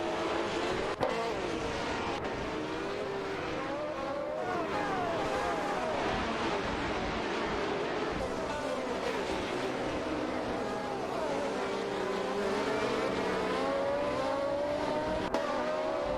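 Racing cars speed around a racetrack in a virtual race, their engines rising and falling in continuous overlapping pitch sweeps as they pass, with a faint voice underneath.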